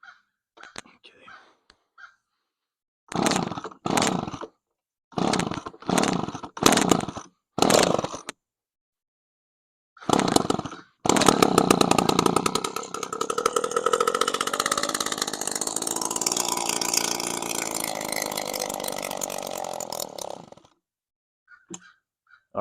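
A 1994 McCulloch Super Airstream III gas leaf blower with a loose exhaust gives several short pull-start bursts. It then catches and runs loudly for about ten seconds before cutting off.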